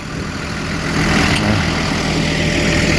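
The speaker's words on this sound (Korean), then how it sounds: "트랙터 타러 왔습니다 트랙터" A tractor engine idles loudly and close by, a steady low rumble with a throaty chug that holds constant throughout, no voices.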